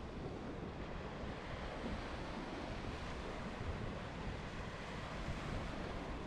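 Steady roar of surf breaking along an empty stretch of Pensacola Beach, with wind buffeting the microphone throughout; a continuous, close wash of waves with no voices.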